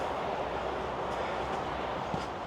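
A train rumbles past on a line right beside a countryside footpath near a motorway, a steady, close broadband roar with faint wheel clatter and no talking.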